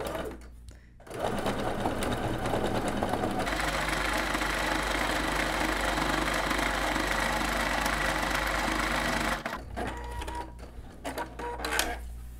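A sewing machine stitches fabric scraps together for a handmade bag, its needle hammering in a steady, fast mechanical rhythm for most of the stretch, with brief pauses and handling noise at the start and near the end.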